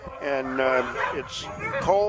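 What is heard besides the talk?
sled dogs barking at a sled dog race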